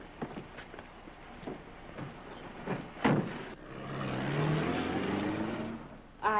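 A late-1930s car pulls away, its engine rising in a growling, revving swell after some knocks and door sounds, then fading, with no talking over it.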